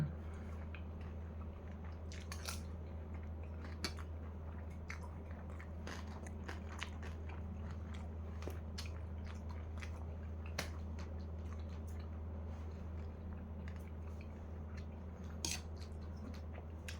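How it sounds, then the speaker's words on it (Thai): Crispy pork with basil rice being bitten and chewed close to the mic, with repeated sharp crunches scattered over a steady low hum and no talking. "อยากให้ทุกคนได้ยินเสียงกรอบมากเลยค่ะน้ำลายแตก"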